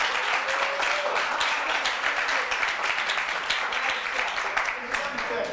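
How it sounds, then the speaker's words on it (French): A live audience applauds a contestant at a televised French-language competition, sustained dense clapping filling the space while a presenter's voice carries faintly over it. "Encore des applaudissements pour lui."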